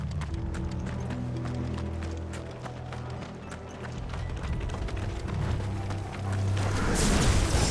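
Horses' hooves thunder in a gallop during Final Fantasy XVI gameplay, a rapid run of clopping beats over a droning game score, with a heavy rushing swell near the end.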